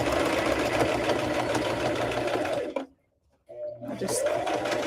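A sewing machine runs steadily, whirring and buzzing close by while stitching a straight seam, then stops briefly and starts up again near the end.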